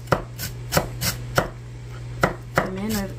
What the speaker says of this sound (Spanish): ya acabé de picar todo el cilantro